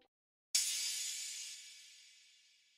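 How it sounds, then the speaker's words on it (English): A crash cymbal sample in FL Studio for a trap beat bursts in loud and bright after a short silence, then shimmers and slowly fades over about two seconds, alone with no talking. "Next is crash. It sound like this."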